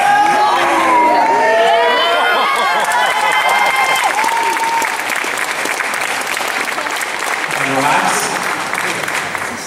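An audience at a junior bodybuilding championship claps loudly and continuously for the competitors, with cheers, whoops and a shouting voice rising over the applause early on before it settles into steady clapping.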